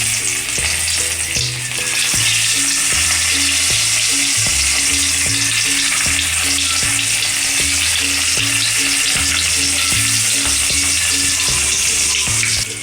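Stuffed bitter gourds frying in ghee with mustard seeds, a loud, continuous crackling sizzle close up, over a repeating low musical backing track.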